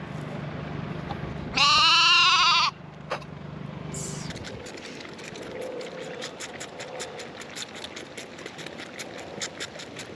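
A sheep on a farm gives one loud, close bleat, followed by quieter outdoor rustling and faint scattered noises with no talk.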